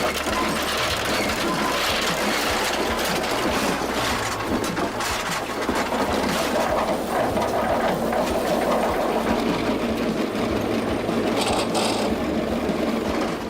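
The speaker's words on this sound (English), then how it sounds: "The non-stop operation of standard wood sorting vertical flow machines has helped make the next wood processing step easier and save time." A wood sorting vertical flow machine runs non-stop inside a factory, giving off a loud, steady mechanical rattle and clatter with continuous rhythmic knocking from start to finish and no voices.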